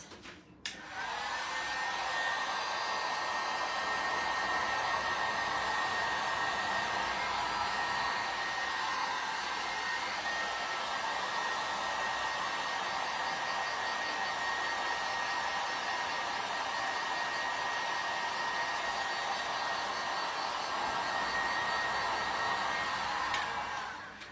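A handheld hair dryer blows steadily to dry fresh paint, its whirring motor and rushing air holding an even, continuous drone throughout, close and fairly loud with a high whine on top.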